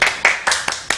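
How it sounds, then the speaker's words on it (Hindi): A studio audience at a live television music show gives a handful of sharp, separate claps in an uneven rhythm, close by and fairly loud. "गाना पसंद आया तो ताली बजाओ।"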